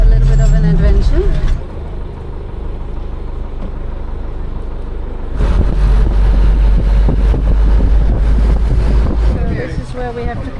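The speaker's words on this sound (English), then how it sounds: "I made it on the number 1 bus." Number 1 city bus in Paramaribo, Suriname, rolling through town: a loud, low engine rumble with road noise and gusts of wind buffeting the microphone, growing heavier as the bus picks up speed.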